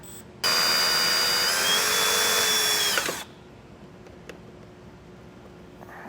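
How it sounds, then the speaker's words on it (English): A power drill whirs loudly and steadily for a few seconds, boring a 3/8-inch hole for trailer hitch wiring on a vehicle, its pitch dipping slightly under load before it stops, leaving quiet background. "We're just going to drill a 3/8 hole through that"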